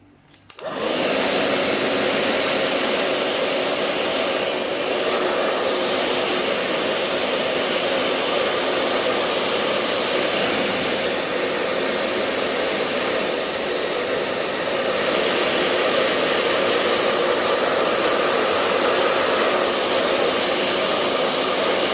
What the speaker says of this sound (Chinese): 现在我们把整个画面啊吹干